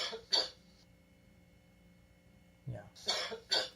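Two short coughs near the start, then a pause of low background hum, followed by a burst of three more coughs close to the microphone.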